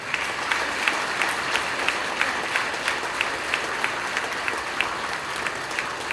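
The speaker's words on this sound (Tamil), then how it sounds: "இந்த மேடையில் இருக்கின்ற அத்தனை பெரியவர்களுக்கு ஒரு கைத்தட்டல் கொடுங்க" Steady applause from a seated audience at a stage event, a dense, continuous wash of hand clapping with sharper individual claps popping out, holding evenly throughout without voices.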